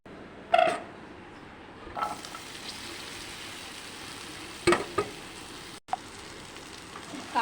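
Shrimp mixed with lemon juice and spices frying in a wok, a low steady sizzle with a few sharp clatters and knocks from stirring, nearby and fairly quiet with no talking.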